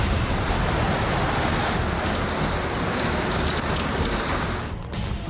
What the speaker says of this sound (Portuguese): O barulho do ciclone nas portas é assustador.